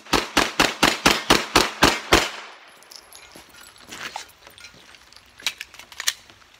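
Gunshots fired while running toward a target, eight sharp, evenly spaced shots in a quick steady rhythm, loud and close, then quiet outdoor ambience with a few faint distant cracks.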